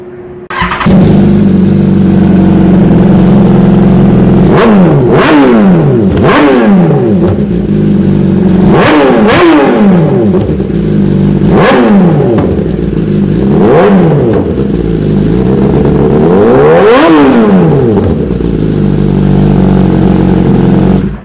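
A 2018 BMW S1000 motorcycle with an Akrapovic exhaust starts and idles roughly, then revs repeatedly in sharp bursts through a throaty exhaust, up close.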